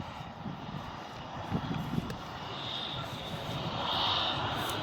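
A Jet2 jet airliner's engines roar as a steady, broad rumble at Manchester Airport, heard from a distance and slowly swelling, with faint breezy background noise.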